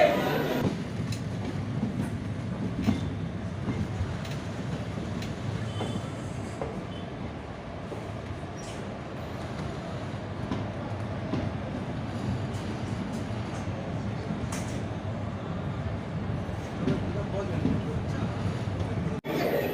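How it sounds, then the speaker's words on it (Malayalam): A train rolls in at platform one of Nilambur Road railway station in Kerala, its steady rumble and rattling carriages carrying through the whole stretch while a person talks over it. "എൻ്റെ ഈ ട്രെയിൻ യാത്ര നിലമ്പൂർ റോഡ് റെയിൽവേ സ്റ്റേഷനിലെ ഒന്നാമത്തെ പ്ലാറ്റ്ഫോമിൽ അവസാനിച്ചിരിക്കുകയാണ്"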